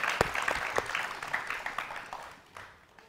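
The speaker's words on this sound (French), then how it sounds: "On applaudit s'il vous plaît." A small audience applauds at a speaking event, a few sharp individual claps opening into a scattered round that thins out and fades toward the end.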